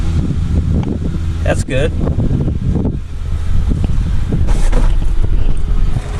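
A V8 El Camino with a manual choke, run for the first time in years, churns with a steady low engine rumble during cranking and starting, loud and close, while people talk over it.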